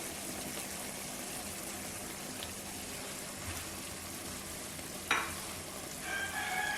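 White chicken karahi, a Pakistani dish with yogurt and chicken, sizzles steadily in a pan throughout, with a brief clatter near the end.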